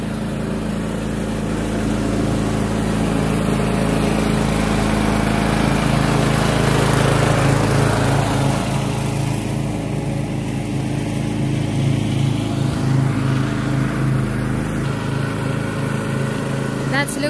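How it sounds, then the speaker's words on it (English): A lawn mower cutting grass in a yard runs with a steady droning engine hum that swells slightly and eases, continuous for the whole stretch, fairly near. "Mowing the lawn."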